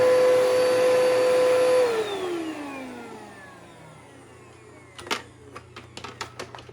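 A Bissell vacuum cleaner switched off, its steady motor whine dropping in pitch as it winds down, followed by a few sharp clicks and handling knocks.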